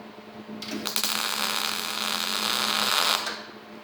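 Tack welding pot metal scrap for a gothic candlestick, a steady crackling buzz of the arc lasting about two and a half seconds over a low electrical hum, close and fairly loud.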